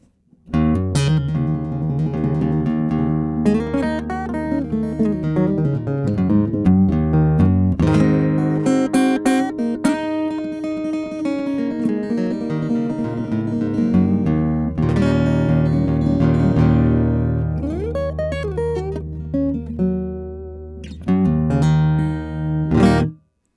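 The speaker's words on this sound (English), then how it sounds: "what you're going to hear now is just the sound of the LR Baggs M80 pickup with no effects" Dry acoustic guitar, a Martin 000-17, played through an LR Baggs M80 pickup, chords and picked notes ringing steadily with no effects, close and clear, with no voices.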